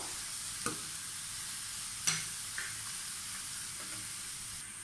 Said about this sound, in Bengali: এখন আমি সম্পূর্ণটা মিশিয়ে ফেলছি সবগুলো একসাথে মিক্স করবো